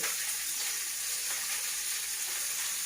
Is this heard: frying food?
yes